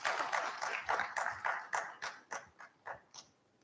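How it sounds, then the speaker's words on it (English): Scattered clapping from a conference audience welcoming a panel to the stage at a public policy dialogue, a modest run of separate claps that thins out and fades over a few seconds. "Let's give a great round of applause to welcome our panelists."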